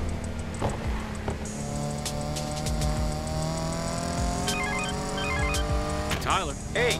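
Car driving home in an animated game-style scene, a steady engine drone with tonal whine running under the scene and a few short electronic blips and a swoosh near the end; no clear speech.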